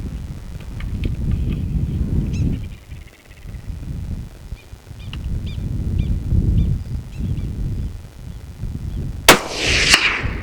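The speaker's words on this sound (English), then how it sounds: "And here's my last shot." A rifle shot from a Franchi MVE in .223 Rem during prairie dog hunting in open windy prairie, a single sharp loud crack near the end followed by a brief echoing tail over steady wind noise.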